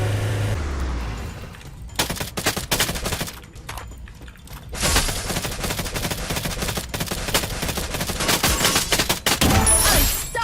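Gunfire in the Free Fire battle game, with dense rapid bursts of shots, brief pauses, then sustained loud firing alongside a revving vehicle engine.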